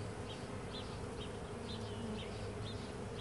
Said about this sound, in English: we are currently covered in bees